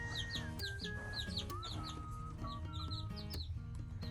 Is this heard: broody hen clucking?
yes